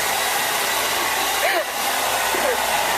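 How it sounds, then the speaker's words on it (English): A hair dryer blows in a continuous loud, even roar throughout a child's first haircut, with faint brief vocal sounds barely poking through. "Does the blow dryer blow you over?"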